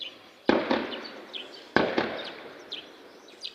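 Two sharp, loud gunshots about a second apart, each ringing out with a trailing echo, followed by fainter distant cracks outdoors, during fighting between M23 and FARDC forces in Rusizi.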